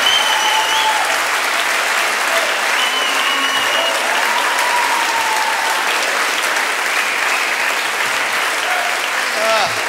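Frenetic, sustained applause from a large audience, dense continuous clapping that holds steady at full volume for the whole stretch without fading, with no voices standing out.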